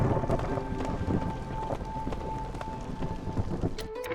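Steady rain pours during a storm in a woodcutting settlement-building video game, a continuous dense wash of noise with faint rumbles beneath and occasional soft tonal game sounds, no talking.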